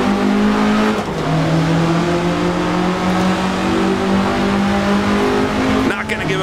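A 1967 Russell Alexis Mk.14 Formula Ford racing in Assetto Corsa. The engine holds a loud, steady, buzzing drone that shifts pitch as the car changes gear and brakes, with a brief dip around the shift points and another car nearby.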